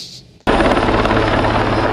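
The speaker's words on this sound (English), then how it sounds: "arriving by helicopter, landing on the front lawn of Milton Bradley" A helicopter arriving to land on the front lawn of the Milton Bradley company cuts in abruptly after a brief quieter lead-in, then roars loud, broadband and steady with close rotor and engine noise.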